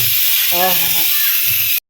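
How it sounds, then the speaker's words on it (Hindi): A pressure cooker cooking goat meat lets out a loud, continuous hissing whistle of steam, close and steady, with a voice speaking briefly over it before it cuts off. "दोसर सीटी छी मारला कुकर में खस्सी मांस का।"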